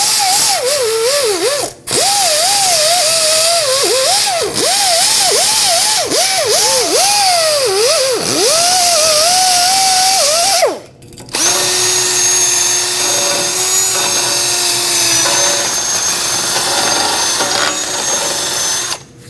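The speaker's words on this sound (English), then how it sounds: "use a sanding disc or a wire wheel or wire brush, whatever you have that'll clean this up without removing too much material" A drill-driven wire wheel or sanding disc scours the hub face of a 2007-2017 Ford Expedition during a front strut job, a loud continuous whine whose pitch wavers under load, cutting out briefly twice and resuming steadier.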